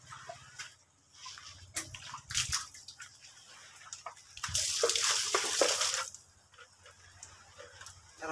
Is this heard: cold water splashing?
yes